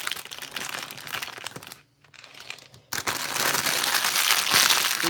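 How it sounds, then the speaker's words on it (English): Crumpling plastic bag from a LEGO set, crinkled close up in bursts, with a brief quiet pause before louder, denser crinkling resumes; no talk. "Here's some ASMR singles of this crumpling bag."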